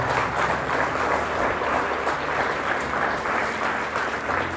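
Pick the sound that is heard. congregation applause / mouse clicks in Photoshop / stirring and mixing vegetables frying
congregation applause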